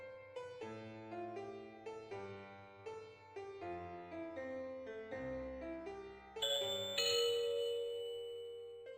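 A piece of music on a piano or chime-like keyboard, a melody of bright bell-like struck notes played alone at steady volume, ending on a louder, shimmering high chord.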